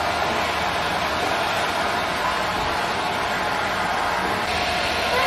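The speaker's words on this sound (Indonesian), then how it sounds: "Ini hair dryer aku merek Miniso." A Miniso hair dryer blows steadily while drying hair, producing a loud, close, unbroken whooshing roar that holds an even level throughout.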